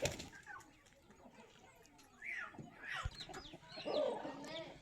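A fighting rooster clucks in a few soft, throaty bursts nearby, with faint background noise and low chatter.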